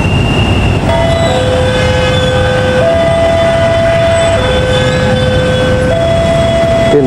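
A railway level crossing bell near Kiaracondong Station, Indonesia, sounds as the gate closes: a steady electronic bell-like warning tone alternating between two pitches, repeating continuously over a loud rumbling background, with a faint high whine throughout.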